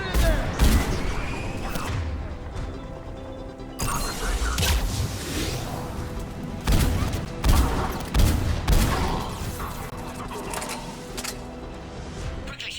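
Sustained gunfire and explosions at a checkpoint where Cerberus troops attack a Krogan in the Mass Effect video game, with dense bursts, booms and rattling volleys, loud and close with brief lulls.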